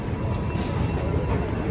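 A train at a UK railway station on the Shenfield line, heard as a dense, steady rumble and rolling wheel noise that stays loud throughout with no pauses.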